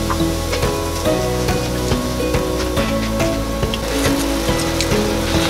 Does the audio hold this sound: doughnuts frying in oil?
yes